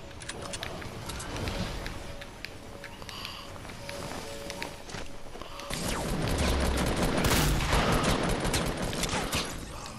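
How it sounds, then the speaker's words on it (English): Gunfire in Fortnite, bursts of rapid shots crackling through a busy game soundscape with footsteps and movement, growing louder and denser partway through. "We're being shot at."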